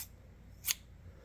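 The small scissors of a Clauss stockman pocket knife make a single crisp snip, close and brief against quiet background.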